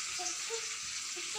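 Fish frying in hot oil, a steady, bright hiss of sizzling that stays constant throughout, with faint bubbling and crackle close by.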